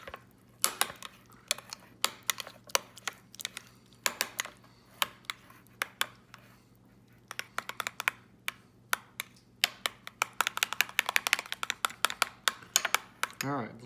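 Caesar dressing with anchovy paste is whisked in a bowl, with quick irregular clicks and taps of a utensil against the bowl, close and crisp, with a voice talking in places.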